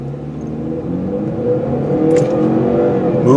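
A turbocharged 2017 Ford Fusion EcoBoost engine revs up steadily, its pitch rising smoothly as it accelerates, loud and close throughout.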